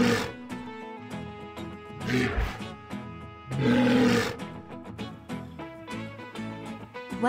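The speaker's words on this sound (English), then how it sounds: "Walrus." A walrus call, loud deep roaring bellows in several rising surges, with heavy low growls between them and no voices.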